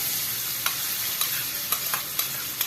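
Chopped onions crackle and sizzle in hot oil in a pan on a low flame, a steady hiss broken by several sharp stirring clicks, close and fairly loud, with no talking.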